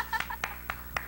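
Four sharp, separate hand claps fall in a slow, even rhythm, close and distinct, as an audience greets a deputy at an El Tri show with Alex Lora.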